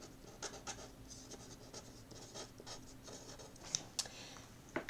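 A pen marks a cross and writes a name on a paper treasure map: soft, close scratching strokes in short bursts, faint and quiet, with a few light taps.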